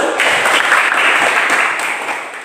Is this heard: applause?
yes